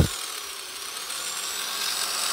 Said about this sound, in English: You can probably hear it in the camera when you drill.